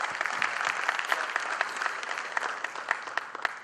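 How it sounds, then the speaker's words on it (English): Audience applause at an awards ceremony, dense continuous clapping from a crowd heard fairly close, with individual claps standing out in an even rhythm and no talk over it. "a big round of applause to him"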